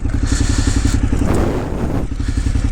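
A KTM 990 Adventure S motorcycle rides on a highway, its engine droning steadily and close with a rhythmic pulsing exhaust and a brief swell of rushing noise midway.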